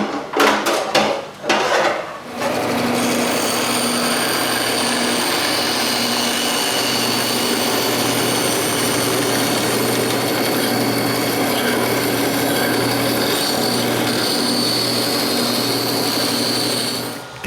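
A table saw cuts through walnut along a marked line to make a clock frame, a loud steady whine with a few sharp knocks at the start, running continuously and alone.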